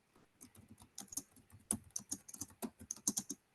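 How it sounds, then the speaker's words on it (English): Fingers typing on a computer keyboard during an online class session, with quick irregular clicks and keystrokes in bursts, close and fairly crisp, with no voices. "I'm typing"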